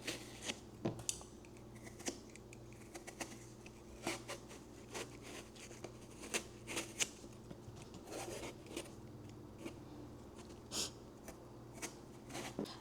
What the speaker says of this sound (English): And I've already peeled one of them, one of the eggplants. So I'm just going to go ahead and peel this one.